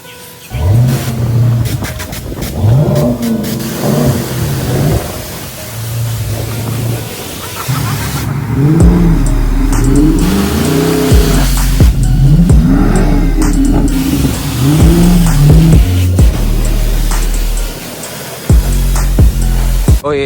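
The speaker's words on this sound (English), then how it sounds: "Y'all know we just had to get back in the car wash." Inside a car passing through an automatic car wash, a steady roar of spraying water and blowers fills the cabin, with rising and falling mechanical whines and bursts of louder rushing air throughout.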